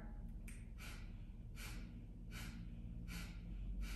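Sharp, forceful exhales during yoga breathing repeat about five times in a steady rhythm, each a short breathy burst that is close and fairly loud, with a low hum underneath.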